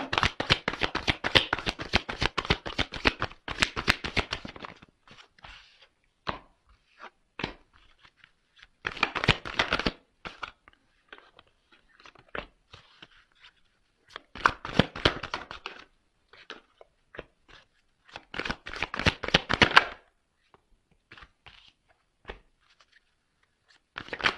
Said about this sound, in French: je fais sauter les cartes devant vous